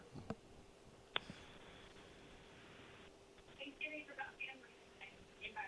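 Telephone line on a morning radio call-in show, with a sustained steady tone running a couple of seconds followed by a string of short dialing beeps and blips, heard over faint background talk.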